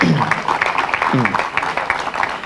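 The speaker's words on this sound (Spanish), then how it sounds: "Un aplauso, por favor." An audience applauds at a commemorative ceremony for Albizu Campos's birthday: a steady patter of hand claps throughout, with a voice sounding briefly over it.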